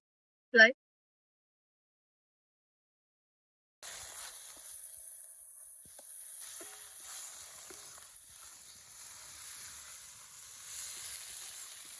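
A single brief pop comes after a moment of quiet. Then dried red chillies, spices and turmeric frying in oil for vegetarian khichuri give a soft, steady sizzle that continues to the end.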